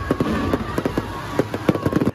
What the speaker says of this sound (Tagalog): Nagliwanag din ang kalangitan dahil sa magarbong fireworks display.